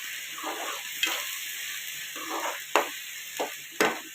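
A tempering sizzles in a pan for a fish curry, a soft steady frying hiss with a few sharp clicks and spatters, close and fairly quiet with no talk.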